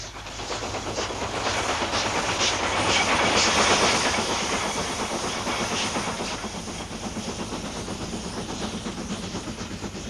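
A British Rail steam train, a Black 5 locomotive, rolls past with a steady rhythmic clatter of wheels on rails and a hissing, chuffing roar that swells and then eases slightly.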